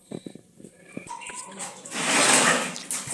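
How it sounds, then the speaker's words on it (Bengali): Dishes being washed by hand at a home sink, with soft clinks and handling sounds at first, then running water swelling loud and steady over the second half. "আর এই যে দেখো থালা মাছতে বসছি"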